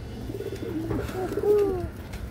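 Silver Kajla female pigeons coo close by, a few soft throaty rolling calls over low background murmur.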